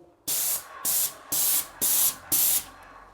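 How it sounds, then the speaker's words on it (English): Five short bursts from an airless paint sprayer, each a loud, sharp hissing spray lasting about a third of a second, separated by brief pauses, close up with no talking. "that is the fan you're looking for when spraying"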